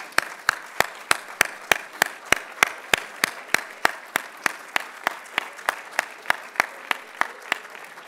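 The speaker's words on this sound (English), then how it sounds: "So would you guys mind standing for some applause?" A dinner audience at a justice symposium gives standing applause for the organizers. One nearby pair of hands claps in sharp, evenly spaced strokes over a softer, continuous wash of crowd clapping lasting about eight seconds.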